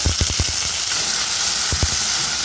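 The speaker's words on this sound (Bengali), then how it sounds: "আর দিয়ে দিচ্ছি কড়াইশুটি" Green peas and long-cut beans hitting hot ghee in a kadai for navratan korma set off a loud, close, continuous sizzle, with a few clattering knocks early on and one more toward the end.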